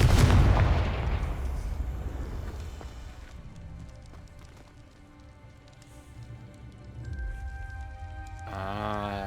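A Confringo spell blast from Hogwarts Legacy erupts as a loud, crackling explosive burst at the start, then decays into a rumbling, rain-like patter with scattered impacts, and a rising tonal shimmer swells near the end.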